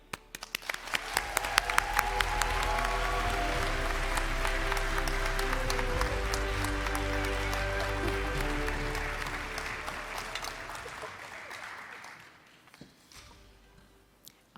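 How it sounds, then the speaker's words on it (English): Sustained applause from a large audience at the TMS AIME 2026 awards ceremony, swelling up within a few seconds, holding steady and loud with some sharp individual claps, then fading out near the end. "you guys are just doing really great with your clapping"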